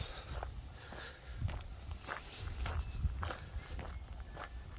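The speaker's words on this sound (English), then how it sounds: "Walking along the levee here" Footsteps crunch steadily at a walking pace along a riverside levee path, about one step per half second, over a low rumble of wind.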